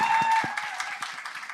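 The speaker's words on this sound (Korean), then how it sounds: "여러분 박수 한번 좀 부탁드리겠습니다" A talk-show studio audience claps briefly in a scattered patter, with a voice heard at the start over the first claps.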